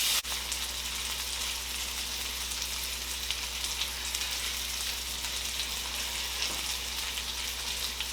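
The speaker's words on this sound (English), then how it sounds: "I don't want to cook my filet mignon for too long, maybe 5 to 7 minutes" Filet mignon sears in a hot pan with a steady, close, even sizzle that holds at a constant level throughout, with no talking.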